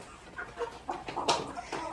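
Purebred rooster and hen clucking close by in a short run of irregular, rising calls, with one louder sharp squawk near the middle and no talk.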